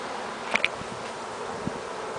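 Honey bees buzz in an open hive in a steady low hum close by, with a couple of brief sharper buzzes as insects pass near.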